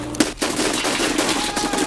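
Fast, continuous automatic gunfire in a video game, a loud rattling stream of shots with no real pause across two seconds.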